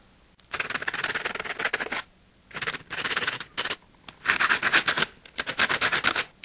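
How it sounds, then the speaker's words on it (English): Sandpaper rubs a handmade crochet hook smooth in quick bursts of close, rasping back-and-forth strokes separated by short pauses. "So now I'm just going to bring my sandpaper over, and I'm just going to sand it until it's nice and smooth."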